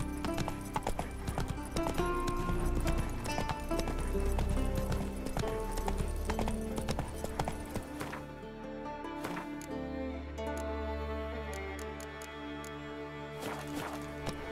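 A horse gallops with steady, loud clip-clop hoofbeats in The Witcher 3, over a busy layer of game music and ambience that thins out partway through.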